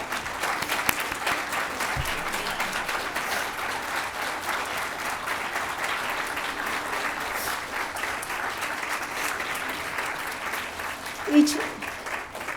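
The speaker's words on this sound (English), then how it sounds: "stand up for a final round of applause" An audience at a 2023 Somerset Hills school graduation gives the staff a long final round of applause, steady crowd clapping that holds at an even level throughout with a brief louder swell near the end.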